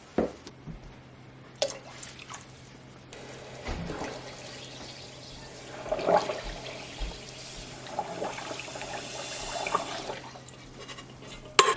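Bottled lemon juice poured into apple juice in a pot and stirred while making apple jelly, giving a steady wet sloshing, dripping and swirling texture with occasional louder splashes, close up and continuous.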